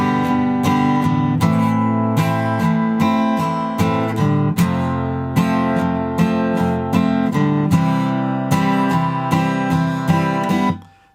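Strummed acoustic guitar chords in a steady rhythm, bright and full, playing continuously with no voices, then ringing out at the end.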